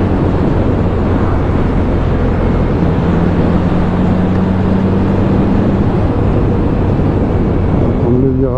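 A Kawasaki Z900 RS four-cylinder motorcycle cruises in fifth gear, its engine droning loud and steady under rushing wind noise, with a brief rising tone near the end.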